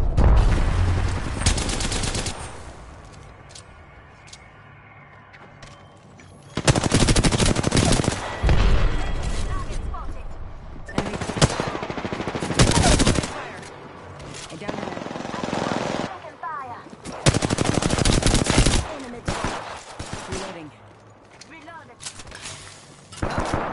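Gunfire from the video game Apex Legends arrives in several loud bursts of rapid shots separated by quieter gaps of game ambience, close and punchy.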